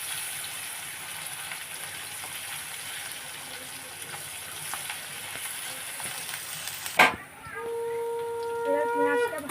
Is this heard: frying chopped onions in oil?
yes